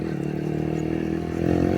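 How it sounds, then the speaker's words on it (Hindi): Modified Yamaha YBR motorcycle engine on a test run, a steady near drone that holds even and swells slightly louder toward the end, with no voices over it. "और एक टेस्ट रन लेते हैं बाइक का।"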